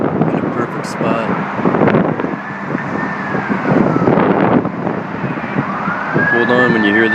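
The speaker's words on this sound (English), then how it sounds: "Hold on when you hear the sirens." Emergency vehicle sirens wail and rise in sweeping tones from a distance under wind and traffic noise outdoors before a rainstorm, with a voice talking over them.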